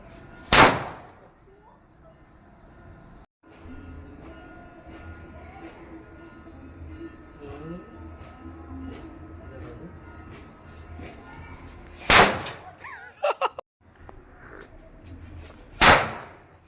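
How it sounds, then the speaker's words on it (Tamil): Firecrackers burst in three loud, sharp bangs spaced far apart, one early and two near the end, while people talk and background noise murmurs in between. "பட்டாசு மட்டும் வெடிக்குது."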